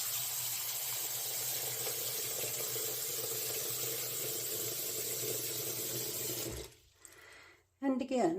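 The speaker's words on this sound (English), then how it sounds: "Or I can run water in the sink." Tap water runs steadily into a bathroom sink as a hissing, continuous stream for several seconds, then abruptly stops, and a voice briefly speaks afterward.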